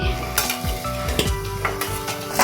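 Potatoes go into a hot pan with ginger and sugar and fry with a steady sizzle, while a spatula stirs and scrapes against the metal in several distinct clanks.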